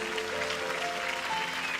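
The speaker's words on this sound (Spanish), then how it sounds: "Dale un aplauso a Jesús." A church congregation applauds for Jesus, a steady, dense wash of clapping from many hands filling the room at moderate volume, with no break and faint murmuring underneath.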